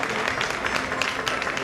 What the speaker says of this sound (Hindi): ताली बजाओ ऐसे अच्छे प्रसंग